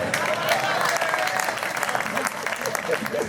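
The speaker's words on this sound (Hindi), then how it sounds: "भाई तालियां कम बजाई आपने यार" Dense applause from an audience at a Hindi kavi sammelan poetry gathering, steady and loud clapping filling the whole moment, with voices mixed in underneath.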